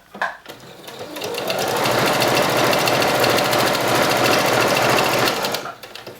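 A sewing machine runs steadily while stitching a fabric placemat, its fast, even mechanical whirr starting after a brief pause and carrying close and loud for several seconds before stopping.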